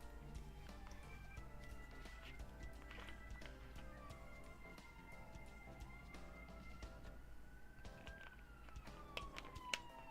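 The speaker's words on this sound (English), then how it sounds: "Sorry about the siren." An emergency siren outside wails with sweeping pitch, heard faint and distant through a room over a steady low hum and scattered small clicks nearby.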